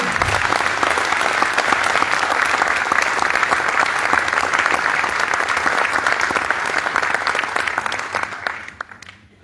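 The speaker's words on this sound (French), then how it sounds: "Je vous remercie d'applaudir les nouveaux élus." Audience in a municipal council chamber applauds newly elected council members at an installation session, a dense sustained clapping that fills the room evenly before tapering off near the end.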